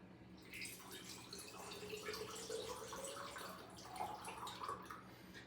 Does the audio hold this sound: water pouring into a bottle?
yes